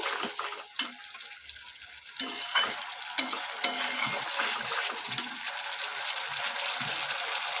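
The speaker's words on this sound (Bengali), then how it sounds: "মশলাটাও খুব ভালো করে কষিয়ে নেব" A spice mixture with salt stir-fried in a pan for a vegetarian cauliflower and lentil-dumpling curry: soft sizzling under irregular scraping strokes of a spatula and a few sharp metallic taps, close and moderately quiet.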